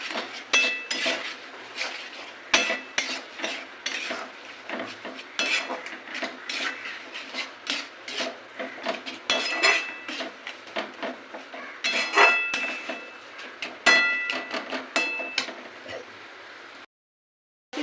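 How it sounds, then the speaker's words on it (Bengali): Potatoes are stir-fried with spices in a pan for a potol, egg and potato korma, with a spatula scraping and clinking against the metal in steady, busy strokes. It is close and fairly loud, and there is no talk. "মশলাগুলো দিয়ে আবার একটু ভালো করে আমি কষিয়ে দেবো"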